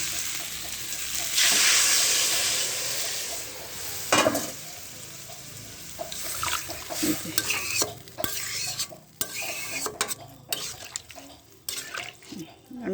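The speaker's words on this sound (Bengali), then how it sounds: "এবার আমি জল দেবো" Cold water splashes into a hot pan of fried fish, bursting into a loud hiss that fades into steady crackling, with a few close utensil clinks and scrapes as it settles.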